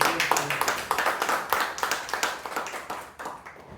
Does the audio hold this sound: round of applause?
yes